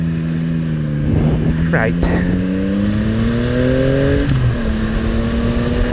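A Yamaha MT-09 motorcycle engine drones loudly and close at night. Its pitch climbs and drops as it rev-matches through downshifts from fourth to second gear, with short blips between gears and someone talking over the engine.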